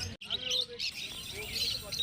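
Lovebirds chirp and tweet in quick, high bursts, a busy chattering flock close by at a bird market, with faint talk in the background.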